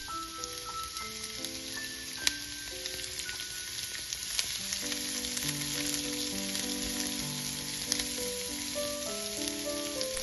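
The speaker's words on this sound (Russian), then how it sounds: "В сковороду наливаю ложку растительного масла. Сначала выкладываю лук," Sliced onion frying in a spoonful of vegetable oil in a pan, a steady soft sizzle that runs on alone for the whole stretch, with quiet background tones and a few small clicks.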